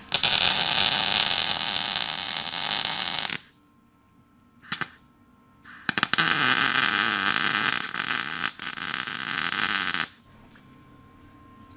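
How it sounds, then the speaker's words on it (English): Tack welding on a Triumph dirt dragster frame: loud crackling hiss of arc welding in a long burst, a couple of brief zaps, then another sustained burst, with a quiet hum between. "I'm gonna tack this in place"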